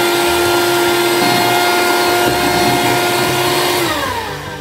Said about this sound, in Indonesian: Selanjutnya ini kita mixer sampai putih pucat.